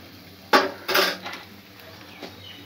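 A spoon stirs garam masala into masoor dal bharta with egg in a pan, making two or three close metallic scrapes and clinks and then a faint final tap.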